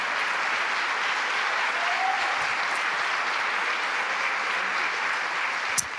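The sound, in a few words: congregation applauding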